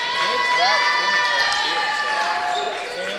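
A crowd fills the gym during a women's college basketball game, Lewis Flyers against Truman State. Steady murmur, shouts and squeaking sneakers stay up close throughout, with no break in the noise.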